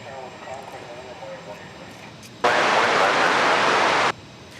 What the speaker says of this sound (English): That's American Flight 2720 off to Tucson, Arizona, an Airbus A321.